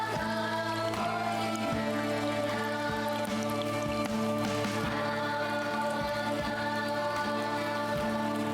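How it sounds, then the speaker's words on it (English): Steady rain ambience in the horror video game Silent Hill f, a constant wash of falling rain and droplets layered over a low, sustained tonal drone, unbroken throughout and with no voices. "Love a nice bit of rainy atmosphere."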